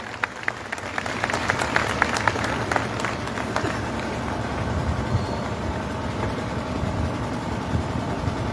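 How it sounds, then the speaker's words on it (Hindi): Crowd applause at a Christian protest march in Ranchi, greeting a bishop as he comes to the stage: dense, steady clapping from many hands with a few sharper claps standing out, set against outdoor rumble with no talking. "जोरदार तालियों के साथ हम उनका स्वागत करें।"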